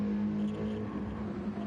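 A race car engine in Gran Turismo, racing at night in the Nürburgring 24 Hour 2023, holds a loud, steady droning tone close by, with a slight rise and fall in pitch and no voices.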